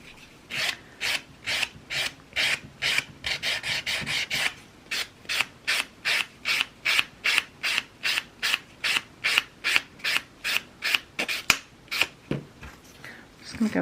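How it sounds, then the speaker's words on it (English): An acrylic nail surface is filed and buffed with a file and buffing block, giving a steady run of about thirty short, close rasping strokes in an even rhythm, with no talking. "I'm just going in with my file and my buffing block and making that a really nice smooth surface."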